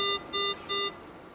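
A GE HealthCare anesthesia machine alarm sounds three short, loud, evenly spaced tonal beeps in a quiet room, followed by silence.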